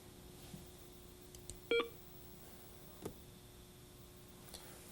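Button beeps from a 1990 Canon Navigator HD40 phone: a clear short electronic beep near the middle, with fainter ticks and blips scattered around it over a quiet hum.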